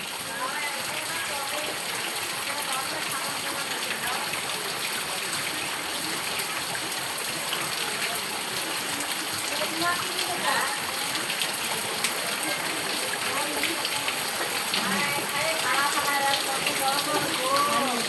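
Heavy rain pours down and floods a courtyard, a dense, steady roar of drops splashing on water and hard ground throughout, with a voice talking over the downpour.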